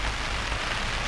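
Steady rain pattering on a camping tent in the Lojing highlands of Cameron Highlands, a dense continuous hiss with no breaks and no voices.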